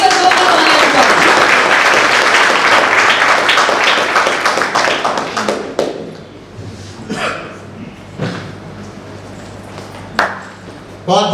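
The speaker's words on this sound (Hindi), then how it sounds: "प्लीज एक बार जोरदार तालियां।" Loud audience applause welcomes performer Bimla Bhagat onto a stage, dense clapping filling the first six seconds before thinning into scattered claps and a few last bursts.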